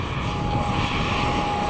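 An FMS 70mm F/A-18 model jet takes off, its ducted fan giving a loud, steady, high-pitched whine that holds without a break from start to end.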